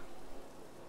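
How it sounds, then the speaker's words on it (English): Steady rain hiss in the F1 2015 racing game at the Australian Grand Prix, a faint, even wash of falling water with no other sound. "so it's definitely raining"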